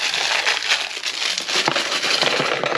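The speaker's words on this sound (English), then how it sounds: "He hears the sound of rustling polythene and he immediately assumes it's something else, i.e. food." Crinkly polythene rustles and crackles up close in uneven bursts, loud and continuous for a few seconds.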